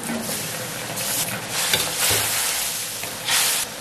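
Potato chunks tipped into braising chicken in a wok and stirred, with steady close sizzling and bursts of scraping and rustling as they are mixed in.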